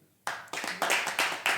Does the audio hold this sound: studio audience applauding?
yes